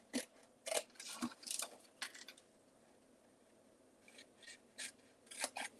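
Scissors snipping a narrow rectangle off a handmade greeting card, faint quick cuts and paper rustles in small clusters, close and quiet.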